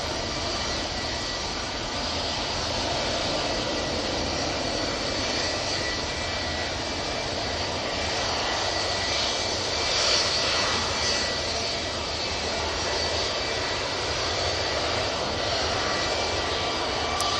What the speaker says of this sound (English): British Airways coming on right in front of us